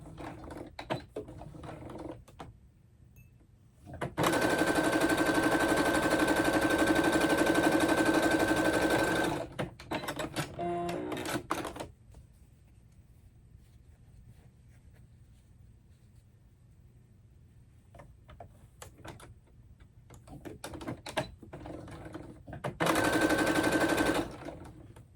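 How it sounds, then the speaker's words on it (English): A sewing machine stitches down both sides of a fabric tissue pouch in two bursts, one long run of about five seconds and a shorter one near the end, each with brief back-tacking. Quiet handling noises fill the gap between the bursts. "So now we're just going to sew both sides and back tack at the ends."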